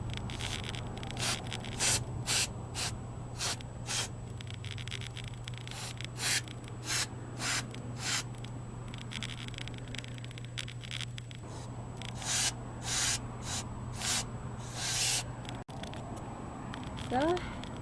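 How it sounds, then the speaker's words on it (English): Brake cleaner sprayed into the throttle body of a 1997 Saturn SC2, heard as a series of short hissing bursts in irregular rhythm over a steady low hum, close and fairly loud. "Now we're going to soak the inside with brake cleaner"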